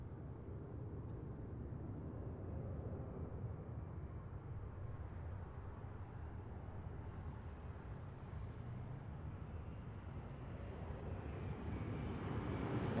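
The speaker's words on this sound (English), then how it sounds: "next up is our Korean Air flight, and this again is coming in from Incheon" A Korean Air Boeing 787 arrives from Incheon, its steady, distant jet roar forming a broad continuous rumble that swells slightly toward the end, with no voices.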